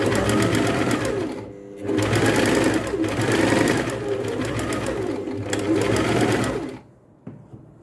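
A sewing machine stitching fabric, starting slow and speeding up, runs in steady whirring bursts with short pauses and a brief lull near the end, close and loud with no talking.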